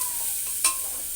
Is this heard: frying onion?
yes